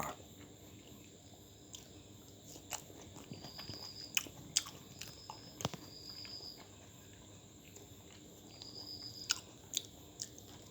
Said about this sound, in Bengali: রাত্রে ভাত না খেয়ে কাঁঠাল খাচ্ছি।